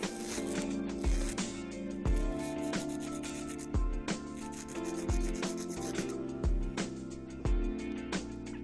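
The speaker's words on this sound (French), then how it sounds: "Et je m'assure que les ongles soient tous limés à la même longueur" A nail file rubs back and forth across acrylic nail tips on capsules, giving a steady rasping scrape with regular strokes roughly every second, close and continuous.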